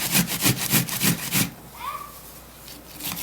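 An onion is grated by hand in quick rhythmic rasping strokes, close and loud, that stop halfway through, leaving a faint squeak and quiet room noise.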